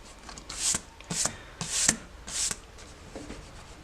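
An eraser rubs on paper over an ink drawing in four quick scrubbing bursts, each a short close rasping stroke separated by brief pauses, then a faint final scuff.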